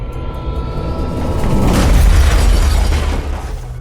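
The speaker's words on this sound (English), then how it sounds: "At 9:47, the train smashed into the left rear end of the trailer." An Amtrak train smashes into the rear of a semi-trailer loaded with rebar at a crossing in Bourbonnais in 1999, making a loud, sustained crashing roar that swells and then fades.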